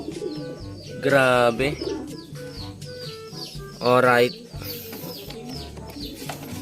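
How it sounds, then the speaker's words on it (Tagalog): Pigeons kept in a backyard coop coo in two loud, throaty bursts close to the mic, with softer bird sounds and brief talk in between. "So, update na rin tayo sa mga kalapati natin,"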